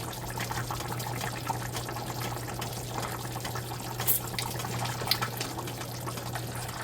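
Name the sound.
Jamaican curry goat simmering in a pot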